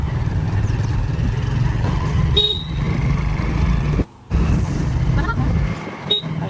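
A car horn toots briefly over steady street traffic rumble, with a second short honk a few seconds later.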